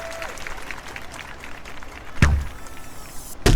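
Crowd applause in a London 2012 archery video game, a continuous rustling clap bed running under commentary, with a couple of sharp thumps breaking through near the end.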